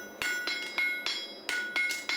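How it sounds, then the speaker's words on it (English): A blacksmith's hammer strikes a heavy horse shoe on an anvil in a steady series of about eight ringing metallic blows, each clanging note decaying before the next, close and clear with no talk. "hammer blow away from the frog, hammer blow towards the frog, and don't flatten too often"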